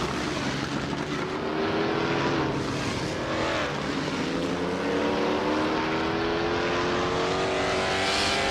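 A Ferrari 375 F1 race car in a racing game drones steadily at high revs, its engine note rising gradually over several seconds, loud and close with no talk.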